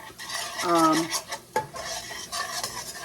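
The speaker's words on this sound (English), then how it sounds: "What we're doing right now is we're making a roux." A spoon stirring butter and rice flour into a roux in a pot, with scraping strokes against the metal, light clinks and a soft sizzle underneath, close and without speech.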